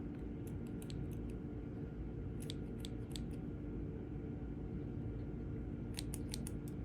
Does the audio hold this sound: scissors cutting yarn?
yes